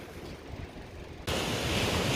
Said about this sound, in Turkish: Burada muhteşem bir deniz